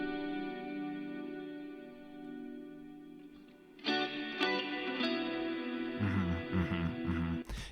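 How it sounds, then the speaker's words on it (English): Electric guitar picking higher notes drenched in heavy reverb, running through effects with some distortion and chorus; a sustained wash of tone that gets busier and louder partway through as more notes ring out. "a ton of reverb on this, and yeah, just doing higher note stuff, again, to just kind of accent the acoustic guitars"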